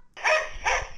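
A voice imitates a dog barking with two bright, close "woof"-like calls in quick succession, produced by a person playing with a baby.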